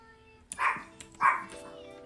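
A pet dog named Sugar barking at the rain indoors, two close, sharp barks about three-quarters of a second apart, loud and alone over a low hum.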